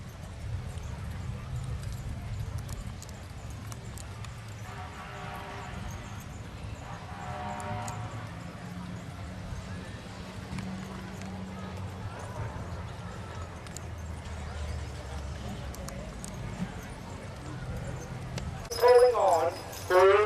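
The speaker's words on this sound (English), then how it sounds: "That's a beautiful team of Percheron horses." A purebred Percheron team at a county fair horse pull, hooves clip-clopping and harness chains jangling at a steady pace under an announcer's amplified voice, with a louder clatter near the end.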